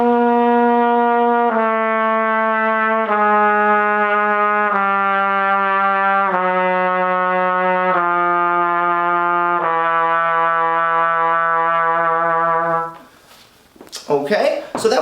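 A trumpet sounds a series of sustained tones, one for each of its seven valve combinations, each stepping lower than the last and held evenly and loudly, then cutting off into a brief clatter at the end.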